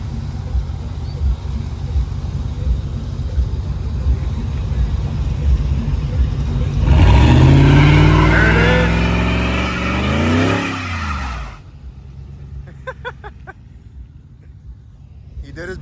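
A lowered 2006 Ford F-150 pickup revs hard during a burnout, its engine rising to a loud sustained roar with tire noise, then dropping off abruptly to quiet idle, with people talking throughout.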